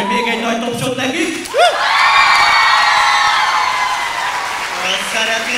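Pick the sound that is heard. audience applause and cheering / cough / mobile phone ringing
audience applause and cheering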